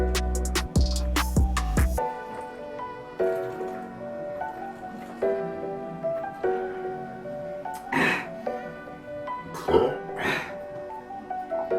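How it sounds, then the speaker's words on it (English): After chugging cherry vanilla Coca-Cola, a person lets out long, loud, drawn-out burps with a deep, croaky pitch, following a few sharp, harsh bursts at the start. "These are the loudest burps I've ever made."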